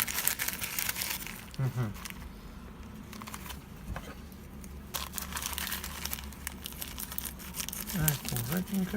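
Crinkling plastic packaging and rustling paper as a parcel holding cable docking connectors is opened up close by hand, with brief quiet remarks from a man over the crackling handling.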